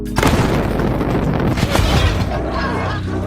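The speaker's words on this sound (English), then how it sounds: "An explosion rips through the building." An explosion ripping through a building in a thriller movie, a loud boom at the start followed by a rumbling, crackling roar that fills the scene and slowly fades.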